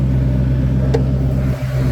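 Engine of a 2004 Ford Excursion idling with a steady, smooth low hum, close and continuous, with no talking.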